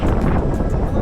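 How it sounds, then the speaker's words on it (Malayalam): Strong, cold wind at Milford Sound buffets the microphone in a loud, continuous roar, close and rumbling, during a brief moment aboard a ship. "ആള് പറന്നു പോട്ടോ, അമ്മാര് കാറ്റാണ്."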